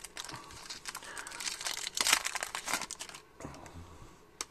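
Crinkling and tearing of foil wrapper as a 2018 Topps Series 1 baseball card pack is opened, close and quiet, in irregular bursts with no talk.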